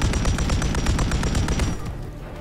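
Rapid automatic gunfire in the Modern Warfare 3 video game, a loud close burst of evenly spaced shots at a fast steady rhythm for under two seconds, then a fading echoing tail with no voices.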